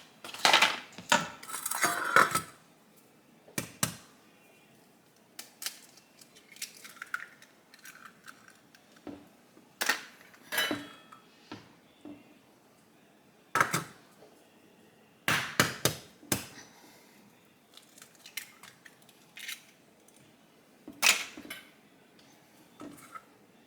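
Eggs are cracked into a bowl for a chocoflan cake. Sharp clinks and taps of shell on the bowl come in scattered bursts with quiet pauses between them, close and fairly faint, with no talking.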